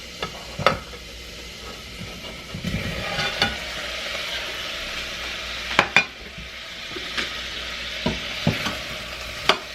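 Garlic and vegetables fry in a pan for a pork loin dish with a soft, continuous sizzle, broken by sharp clicks and scrapes of a utensil stirring against the pan.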